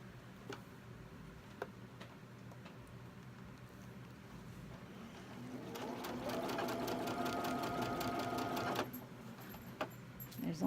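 A home sewing machine stitches through fabric for a Halloween sew-along project, the motor starting up midway and running in a steady, close, loud mechanical buzz for a few seconds before stopping, with faint handling noises before and after.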